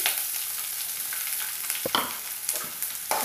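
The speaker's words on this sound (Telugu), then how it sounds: "తర్వాత ఉల్లిపాయలు వేసి" Onions frying in a pan for a Telugu bitter gourd curry, a close, steady sizzling hiss with a few sharp scraping stirs near the end, no voices.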